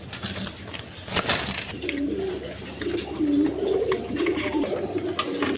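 Afsan Girizial pigeons, full-quality birds offered for sale, coo in low rolling phrases near at hand, steady through several seconds, with a brief rustle early on and no speech.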